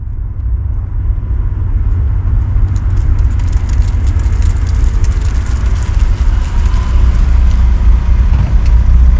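A 2004 BMW Z4 sits with its engine running, a steady low rumble and broadband rush that hold loud and constant throughout, with no one speaking.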